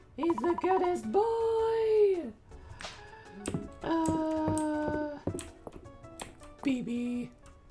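A puppy howls and whimpers in drawn-out, wavering cries, with several rising and falling yips that come and go close by under intermittent talk.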